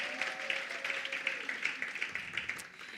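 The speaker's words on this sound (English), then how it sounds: "So let's give Noni a huge round of applause for that." An audience at a women's business conference in Gauteng breaks into steady applause, a dense patter of hand claps that carries on for several seconds.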